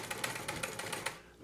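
A sewing machine stitches a fabric snowflake appliqué, its needle clattering in a fast, steady rhythm close by before stopping abruptly near the end.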